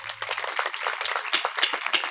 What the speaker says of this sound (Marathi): पहिल्यांदा मंडळासाठी टाळ्या वाजवा